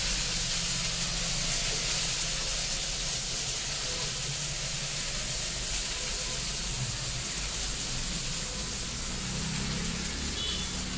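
Tomatoes for tomato chutney sauté in a pan over lowered heat, giving a continuous hissing sizzle that stays steady throughout without pauses. No one speaks.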